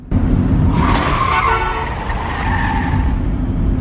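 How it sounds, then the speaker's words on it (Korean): A Hyundai car driven recklessly through a city centre in a film scene, a loud, steady engine roar with a brief honk-like tone and tyre noise, sustained for a few seconds with no talking. "현대차를 타고 갑자기 도심 한복판에서 미친놈 마냥 난폭운전을 합니다"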